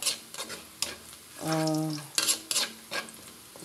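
Chopped garlic and onion sauté in a pan until golden, a loud crackling sizzle with bursts of stirring and scraping, plus a brief tonal hum in the middle; no voices are heard.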